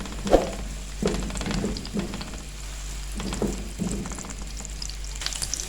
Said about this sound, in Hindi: और इसको हम थोड़ा सा फ्राई करेंगे